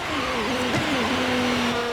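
Engine of a 2023 Aston Martin Valkyrie in the video game Forza Horizon 5, a loud, harsh, continuous mechanical roar with a wavering pitch, close and alone.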